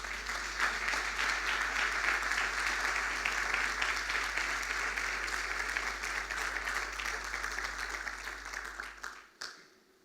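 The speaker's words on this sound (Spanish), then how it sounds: "Vamos a dar un aplauso al Señor." Steady applause from a church conference audience, dense continuous clapping held at an even level for about nine seconds before cutting off abruptly.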